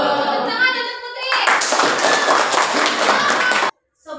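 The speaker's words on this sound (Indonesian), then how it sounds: "Tepuk tangan untuk Putri" Classroom applause for a pupil who answered correctly: a burst of dense clapping from many children starts after a brief lead-in of voices and carries on steadily before cutting off abruptly near the end.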